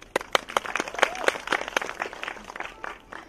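A theatre audience at a Chinese film premiere applauds to welcome a choreographer onto the stage, with distinct individual claps standing out close by rather than a dense roar, spread unevenly through the moment.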